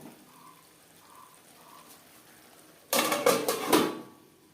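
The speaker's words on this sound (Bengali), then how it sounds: "নাড়াচাড়া করে নেব।" Spices being stirred in a cooking pan with a splash of water added: a quiet stretch, then about a second and a half of loud scraping, clattering utensil strokes near the end, with no talk.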